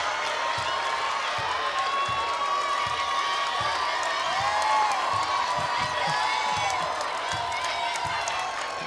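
Crowd noise from fans at a 2018 state basketball tournament semifinal, Roseville vs Hopkins, a steady roar of cheering with scattered whoops and claps, sneaker squeaks faintly audible, some speech mixed in.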